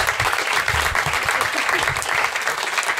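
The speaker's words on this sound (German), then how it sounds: "Applaus für diesen komischen Dachdecker." Audience applause at a live stand-up comedy show in a German-language venue, a dense, steady clapping wash from a close crowd lasting throughout with no talk over it.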